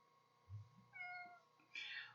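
A cat meows a couple of times up close, short rising calls separated by quiet pauses.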